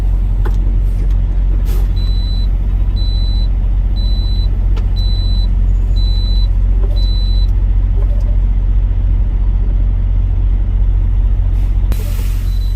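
A semi truck pulling a refrigerated reefer trailer rolls over a hump at a fuel island, its heavy diesel rumble loud and steady throughout, with a repeating beep for several seconds and a brief air hiss near the end.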